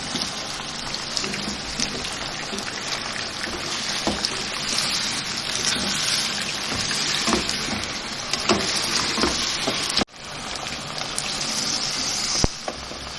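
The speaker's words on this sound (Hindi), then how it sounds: "थोड़ी देर हम इसको गोश्त को ज़रा भूनेंगे इसके साथ तेल में, ताकि इसकी स्मेल निकल जाए" Goat meat sizzles and crackles steadily in hot oil in a pan while being browned for restaurant-style nalli nihari, a continuous close, loud frying hiss with small pops and a brief break near the end.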